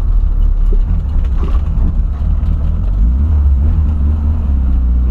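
Volkswagen Voyage engine revving while still cold, a loud deep rumbling drone that swells steadily in the low range, heard close without speech.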